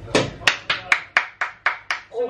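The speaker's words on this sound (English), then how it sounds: "You can applaud." Eight evenly spaced, sharp hand claps ring out in a steady rhythm after a birthday song at home, close and distinct, like one or two people clapping slowly.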